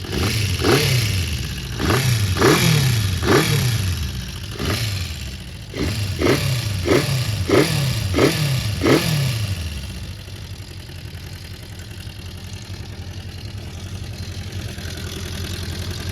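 Honda CB400 Four classic motorcycle engine, its four-cylinder engine running during a restoration, blipped up in a string of about a dozen sharp revs over the first ten seconds, then settling to a steady idle, close and loud.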